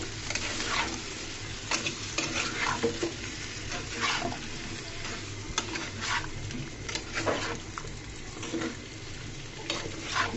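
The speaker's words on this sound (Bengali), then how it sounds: "দিয়ে দিলাম কেটে ধুয়ে রাখা মিষ্টি কুমড়োগুলো, দিয়ে মশলার সাথে ভালো মতো মিশিয়ে নিচ্ছি।" Pumpkin pieces stirred into fried spice paste in a hot pan give a crackling sizzle with repeated scraping strokes of the spoon at an uneven rhythm, close and without talk.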